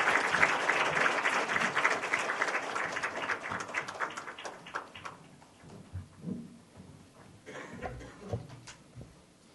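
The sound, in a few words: audience applause welcoming the second lecturer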